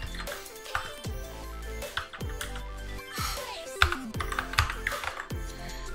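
Keystrokes on a computer keyboard while text is typed in, a light clatter of taps set against steady tonal background music.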